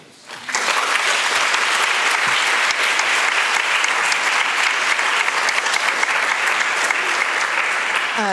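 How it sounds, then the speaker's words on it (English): Conference audience applause for the speakers of a talk on crime and fear in public places, erupting abruptly after a brief quiet moment and continuing as dense, loud, steady clapping. "And a round of applause for our speakers"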